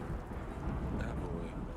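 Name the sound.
thunder and rain storm in the video game Yes, Your Grace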